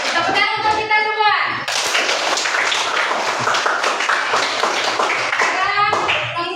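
A classroom group of children claps hands together in a quick, rhythmic burst that carries through the middle of the clip. Kids' voices chatter over the clapping at the start and the end.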